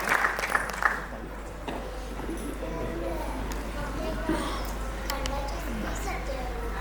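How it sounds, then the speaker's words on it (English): Scattered audience applause in a school auditorium for the principal at an annual day event, a short burst of claps at the start that fades into murmuring voices and faint room noise beneath a steady low hum. "I think we deserve another round of applause for our principal ma'am."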